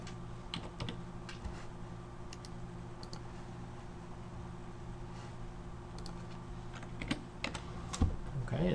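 Someone types numbers and code on a computer keyboard in quiet bursts of soft clicking keystrokes, close and faint over a low fan hum. Brief speech is heard near the end.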